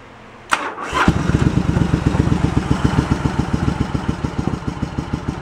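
A cold Yamaha Virago 1100 V-twin motorcycle engine cranks briefly, catches and settles into a loud, steady, lumpy idle with an even throbbing pulse close by.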